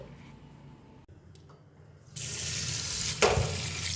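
Mangoes being washed under running tap water, with quiet rinsing and handling at first, then the faucet opening fully into a steady close gush with a brief splash.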